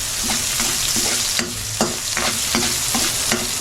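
Garlic sizzles steadily in a hot pan, with a spatula scraping and stirring in a regular rhythm of clear strokes about every half second. The cooking is close and fairly loud, and no voices are heard.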